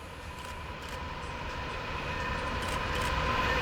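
A westbound stack freight train rolls through Fullerton at speed, a steady rumbling roar with faint rail clatter that builds gradually louder as it nears.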